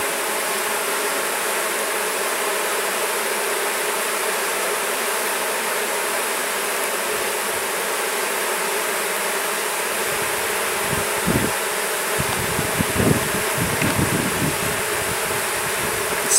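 Honeybees buzzing and fanning at a hive after being smoked, a steady close hum throughout, joined near the end by a few louder, deeper buzzes and bumps.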